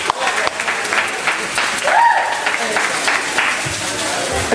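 Sustained applause from a homecoming show audience at USF in 2013 after a poetry performance, dense clapping filling the whole stretch with a brief vocal whoop in the middle.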